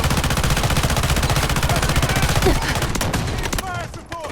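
Sustained automatic gunfire in the mobile shooter Delta Force Mobile, dense rapid bursts rolling on for several seconds at close range, then thinning into scattered shots and combat noise.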